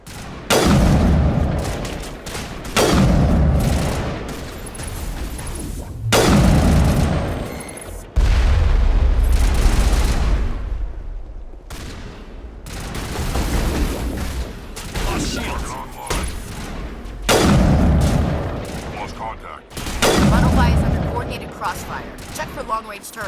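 Long-range turrets pound away in Mass Effect Legendary Edition, heavy booming bursts coming in repeated volleys over about twenty seconds, loud and close, with brief gaps between salvos and a low rumbling tail under each one.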